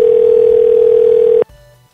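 A telephone dial tone holds loud and steady for about a second and a half, then cuts off abruptly to a faint low hum.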